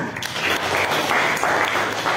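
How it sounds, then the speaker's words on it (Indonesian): Brief classroom applause from students after an answer in a lesson, a dense continuous patter of clapping that holds steady from start to finish. "Oke, tepuk tangan."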